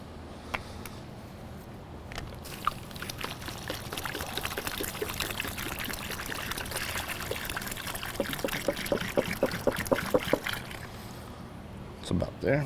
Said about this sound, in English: We're gonna add a 1/2 gallon of Pure Life distilled water.